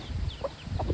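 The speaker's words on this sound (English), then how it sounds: "This lovely Australop was sitting on about 7 eggs, and 4 hatched" An Australorp hen with newly hatched chicks gives soft, faint clucks in a brief, close burst, with light peeping and rustling around her.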